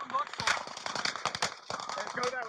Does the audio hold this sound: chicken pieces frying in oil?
no